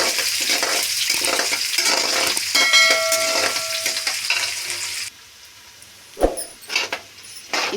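Chopped onion and garlic frying in an Andhra-style carrot rice pan, a bright continuous sizzle with a spoon scraping and stirring against the metal, then the sizzle drops low, broken by a few sharp knocks of the utensil.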